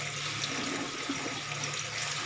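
Tap water runs steadily into a sink while a face is being washed, a continuous close splashing wash with no voices.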